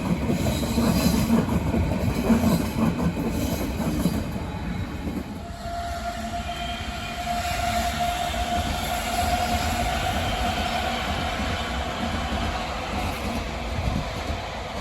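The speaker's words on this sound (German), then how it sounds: "In Charlottenburg halten die S-Bahn-Linien S3, 5, 7 und 9." Berlin S-Bahn train at Charlottenburg station, a loud steady rumble of rail cars rolling through with wheel noise and a sustained squealing tone emerging midway, continuous and close, with no voices.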